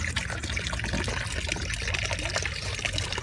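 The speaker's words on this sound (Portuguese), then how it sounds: "Vou mostrar para vocês o filtro. Filtro do lago. Fiz ele com balde de manteiga." Water trickles steadily through a homemade pond filter built from a butter bucket, a continuous close splashing flow with no voices.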